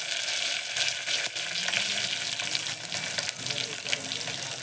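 Dried red chillies and curry leaves sizzle steadily in hot oil for a Telugu-style dal tempering, a bright continuous crackle with faint scraping and no talk.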